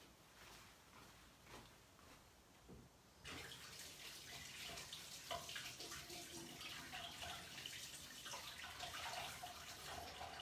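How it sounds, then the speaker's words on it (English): Tap water starts running partway through and keeps splashing as hands are washed beneath it, close and moderately loud in a kitchen, with no talking. "So I wash my hand"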